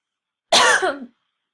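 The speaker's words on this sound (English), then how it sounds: "So sorry guys that I keep coughing." A single harsh cough, close and loud, lasting about half a second, followed by silence.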